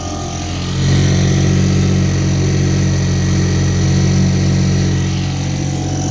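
A 1954 Clinton Model 40 outboard motor running on a lake at about half throttle on an Alumacraft boat, a loud, steady droning engine note that swells slightly after the first second and holds constant.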